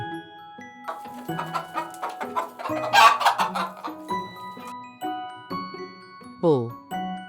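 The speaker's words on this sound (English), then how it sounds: "Hen." A hen clucks in a series of short, irregular close calls, with a brief burst of squawking midway and a rising cackle near the end over light musical tones.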